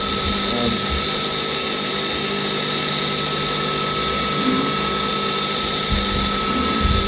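CNC mill running an end mill around a round donut contour, a steady high-pitched machining whine with constant broadband noise throughout, close and fairly loud, with faint low rumbles underneath.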